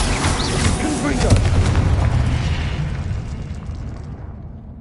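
A Confringo blasting spell in Hogwarts Legacy erupts in a loud, booming blast with a rumbling, crackling tail that slowly fades out over several seconds, with a voice briefly present.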